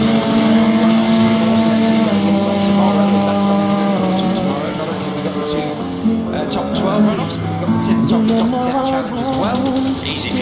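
Race car speeding up a hillclimb track toward the bottom S bend, a loud, close engine holding a high steady note, then dropping and rising again through gear changes, with a commentator talking over it.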